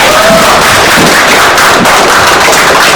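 Audience applause at a Korean Saenuri Party candidate's press conference, loud dense clapping filling the whole stretch, crackling and busy without pause.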